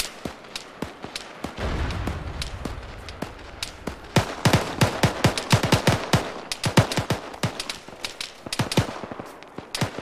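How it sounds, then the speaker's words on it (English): Gunfire in a military video game: dense, rapid bursts of automatic fire and single sharp shots, loud and close, with heavy booming at the start and overlapping volleys continuing throughout. "We're taking shots from our west still."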